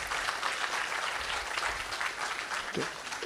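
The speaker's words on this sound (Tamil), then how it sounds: "முதல்ல ஐயாவுக்கான ஒரு கைத்தட்டலை பெருசாக நம்ம கொடுத்துருவோம்" Audience applause at a live event, steady dense clapping from a crowd held at an even level throughout, with no talk over it.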